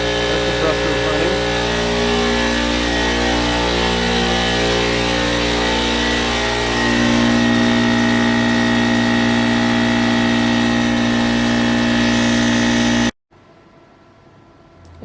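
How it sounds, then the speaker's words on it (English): Air compressor running off a Delta Pro power station, a loud, close, steady motor drone with strong harmonic hum and a slight pitch rise as pressure builds, then abruptly cutting off near the end. "That compressor is running."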